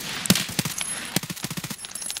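Gunfire in the shooter game Escape from Tarkov, a sharp nearby shot followed by rapid bursts of automatic fire with distinct cracks and short echoes.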